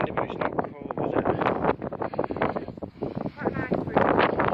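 Wind buffets the microphone on an open Peak District dale hillside, a continuous rough roar with gusting swells, while someone talks throughout.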